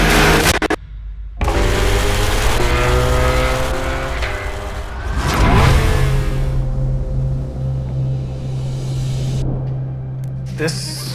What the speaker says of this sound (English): 3 Corvettes, 3 different drivers, driving for fast laps.